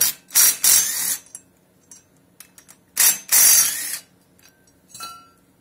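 A ratchet wrench removes bolts from a Yamaha Banshee, giving bursts of rapid metallic ratcheting clicks in two main runs with smaller clicks and clinks between, close and without speech.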